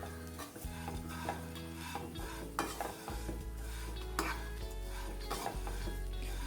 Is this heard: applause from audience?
no